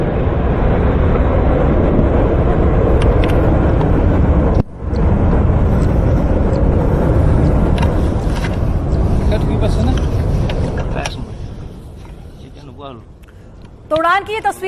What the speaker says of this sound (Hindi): तो उड़ान की ये तस्वीरें हमने आपको दिखाई कि किस तेजी और किस तीव्रता के साथ पे राष्ट्रपति द्रौपदी मुर्मू ने उड़ान भर ली है